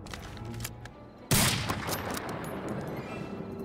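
A sniper rifle fires once in the video game Medal of Honor Allied Assault, a sudden sharp crack with a lingering rumbling tail over quieter game ambience.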